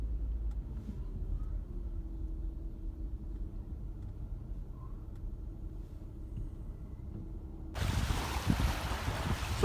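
Steady wind roars and buffets across South Manistee Lake near Curtis, Michigan, with a low rumble throughout and a sudden burst of louder, hissing gusts near the end.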